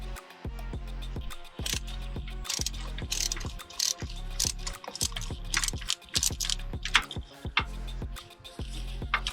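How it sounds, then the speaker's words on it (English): Ratchet wrench backing an old spark plug out of a Subaru WRX STI, a rapid clicking pawl in repeated bursts of strokes, close and crisp throughout. "let's remove the coil pack and take out the old spark plug"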